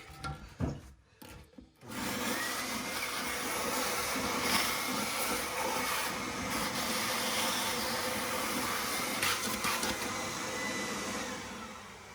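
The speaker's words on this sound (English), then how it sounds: "We're going to vacuum this water right out of the tank." A steady, loud suction roar of a wet vacuum draining water from a toilet tank runs continuously after a few seconds of short scraping and shuffling sounds at the start.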